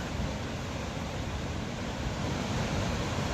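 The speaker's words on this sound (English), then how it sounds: "You can see the water flowing down the valley or gorge." River water rushes through the deep limestone gorge at Siffleur Falls in Alberta, a dense, continuous roar with no breaks and no voices.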